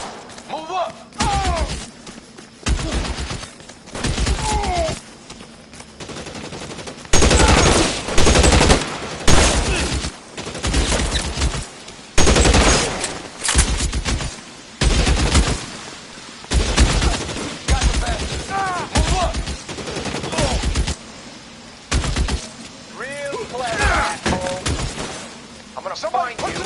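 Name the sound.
gunfire in the video game L.A. Noire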